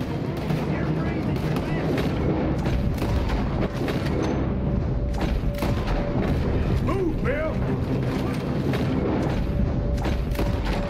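Gunfire rattles through a Red Dead Redemption 2 firefight: dense, continuous shots and booms layered with game noise and occasional voices, loud and sustained throughout.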